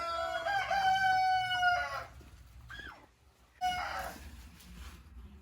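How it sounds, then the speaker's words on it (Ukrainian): Silkie hens in a village henhouse give close, drawn-out squawking calls followed by a pause, then more short clucks, against quiet barn background. "подивимось, що тут нанесли наші курочки"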